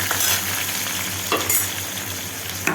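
Onion, bay leaf and garam masala fry in a pan with a loud, continuous close sizzle, broken by a few stirring scrapes.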